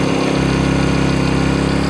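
Sportsman GEN1000i inverter generator engine idling on economy throttle at about 2,000 RPM, a steady, loud, close drone with an even low hum and no talk.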